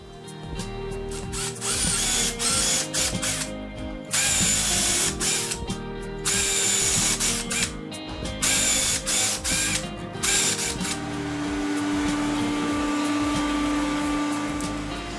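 A Parkside countersink drill bit boring into wood makes a series of short, loud, close whirring bursts separated by brief pauses, then a steadier, softer grinding run toward the end.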